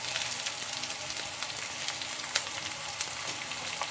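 Onions fry in a pan for chicken pepper fry, giving a dense, continuous sizzle at close range with a few small crackles and pops, heard alone without speech.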